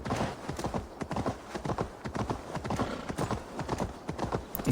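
Steady clip-clop of horse hooves trotting in the video game Assassin's Creed Valhalla, in a quick, even rhythm, fairly close and continuous without a break.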